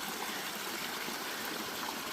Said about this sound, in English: Beautiful creek, the little waterfall.